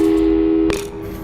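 Telephone call tone in the Portal 2 video game, a loud steady single-pitch tone held for under a second, ending with a short click, followed by quiet.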